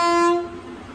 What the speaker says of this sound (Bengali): ট্রেন চলে এলো